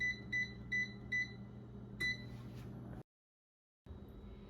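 An air fryer finishes cooking cheese fries and gives five short, evenly spaced electronic beeps, with a last one after a pause, over a low appliance hum that cuts out briefly before resuming.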